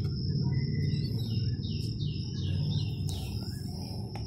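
Thin, high-pitched squeaky cheeps from pigeon chicks in a nest in India, repeated in quick bursts over a steady low background hum.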